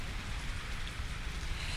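Steady rain from a winter storm in Carpinteria, Santa Barbara County, falls as a dense, even hiss that persists without a break and with no voices.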